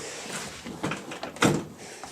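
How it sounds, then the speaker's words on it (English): Manual convertible top mechanism on a BMW E36 being worked by hand, a few clunks and a sharp latching snap near the end, close and moderately loud. "pull the little door lever. Oh, now it's like latching."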